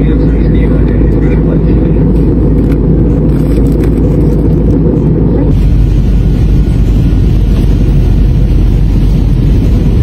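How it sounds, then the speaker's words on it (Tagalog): Loud, steady airplane cabin roar during a rainy flight through thick clouds, a dense broadband rumble with a sudden shift in tone midway, with talk faintly beneath it. "umaalog-alog nga yung eroplano sa mga ulap-ulap dahil nga umuulan"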